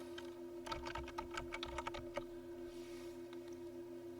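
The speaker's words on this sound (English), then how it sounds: "type numbers" Rapid, quiet clicking of keys as numbers are typed on a computer keyboard for an Excel macro, a quick run of taps over a steady electrical hum, then fading into stillness.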